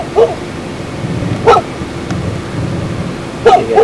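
A dog at a doghouse barks three times in sharp, spaced single woofs, moderately distant outdoors over a steady rumbling background.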